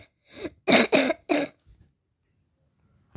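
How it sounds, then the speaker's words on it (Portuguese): A person coughs several times in quick succession, three loud harsh bursts after a softer one, followed by a faint throat sound and then quiet. "Tô tossindo, gente."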